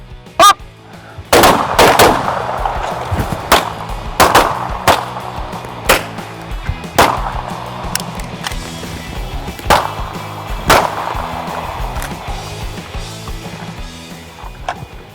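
Sharp gunshots crack out across a shooting drill from low ready, a primary rifle firing and then a secondary pistol, with several loud, separate reports spaced irregularly over about fifteen seconds and ringing decays between them.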